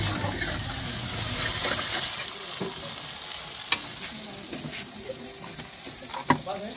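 Spice paste with onion is stirred and fried in a pan while cooking a duck dish, a continuous close sizzle with scraping spatula strokes and a few sharp clinks of utensil on metal.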